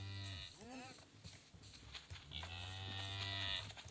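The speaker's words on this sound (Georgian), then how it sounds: "მე რა საყვარლები ხარ, პატარა ძროხები" Cows in the video game Minecraft moo, with two drawn-out, loud moos separated by a brief pause and accompanied by quieter bleating.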